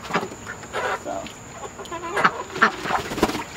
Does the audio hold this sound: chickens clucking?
yes